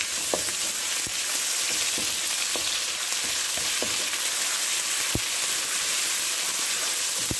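Garlic ginger paste sizzles with browned onions in a hot pan, a loud continuous frying hiss broken by occasional scrapes and taps of a spoon stirring.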